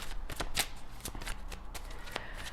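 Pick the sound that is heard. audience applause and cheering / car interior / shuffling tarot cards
shuffling tarot cards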